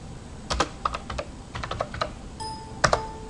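Typing on a computer keyboard at a Bloomberg terminal: a few quick clusters of crisp, close key clicks in an uneven rhythm, ending with a firmer double tap, quiet room, no speech.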